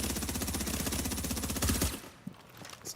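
Rapid automatic gunfire from The Division, a dense sustained burst for about two seconds that cuts off abruptly, followed by a few scattered faint shots and clicks.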